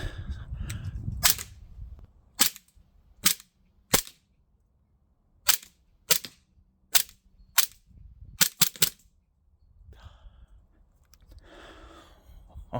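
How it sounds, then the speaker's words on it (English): An Umerex Glock 19 Gen5 blowback air pistol fires about a dozen sharp, close cracks, spaced irregularly, with a quick burst of three near the end. The slide locks back after the last shot, then faint handling noise follows. "I'm just going to literally fire a fair few rounds towards the general direction of the box, just to show you the action, the blowback"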